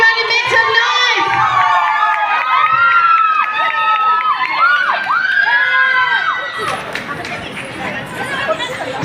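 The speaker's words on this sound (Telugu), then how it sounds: "గట్టిగా ఒకసారి హాల్లో వాళ్ళందరూ చప్పట్లు గట్టిగా చప్పట్లు కొట్టాలి" An audience in a hall at an awards ceremony erupts in loud, close cheering, whoops and shouts, with voices rising and falling, before the noise shifts toward clapping and general crowd hubbub.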